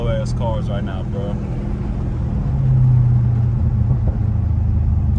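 A Dodge Charger Daytona Scat Pack engine rumbles with a steady, deep drone while driving, swelling slightly partway through, heard from inside the car with someone talking briefly over it at the start.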